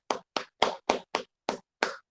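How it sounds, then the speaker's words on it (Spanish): A class in a Mam language lesson claps in a group rhythm: seven sharp, close claps over about two seconds, with short gaps and no talking. "Aplausos por ustedes."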